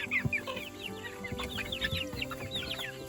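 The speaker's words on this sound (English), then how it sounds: "that is a salmon favorite rooster right there." A Salmon Faverolles rooster clucks on a farm among other chickens, with a steady stream of quick, close, overlapping clucks and soft fowl chatter.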